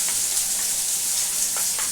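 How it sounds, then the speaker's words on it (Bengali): Chopped onions fry steadily in a pan of hot oil for a vegetarian curd-and-pointed-gourd curry, giving a continuous close sizzle broken by a few short stirring scrapes, with no talking. "এবার পেঁয়াজটা আমি এখন খুব ভালো করে ভাজছি।"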